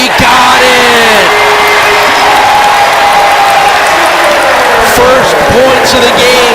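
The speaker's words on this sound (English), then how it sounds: "the crowd just getting a little extra into it, seeing Massenberg make that shot" A loud home basketball crowd roars and whoops after a made three-pointer in a Buffalo vs. Central Michigan men's college game, the cheering sustained throughout with overlapping shouts and a commentator talking over it.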